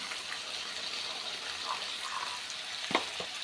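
Fresh green peas sautéing in a pan for masala rice, a steady soft sizzle with faint stirring scrapes and a couple of brief clinks near the end, close and fairly quiet.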